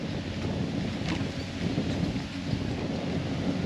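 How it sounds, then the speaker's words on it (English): Strong wind blows outdoors under overcast skies on a bass fishing outing, a steady loud rushing roar buffeting the microphone with no pauses. "We got a good amount of wind."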